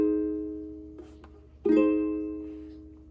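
An acoustic guitar strums one Despair chord, letting it ring out, then picks it again. The second strum is stronger and fades away slowly in a quiet room.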